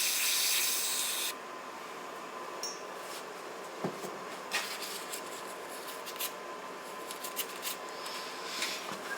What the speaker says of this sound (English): Let's go ahead and spray that out.